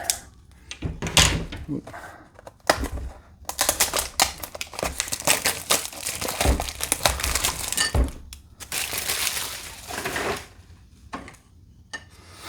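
A Donruss baseball card blaster box is torn open, with close crinkling, cardboard ripping and rustling wrapper sounds in uneven bursts, interrupted by short pauses and some speech.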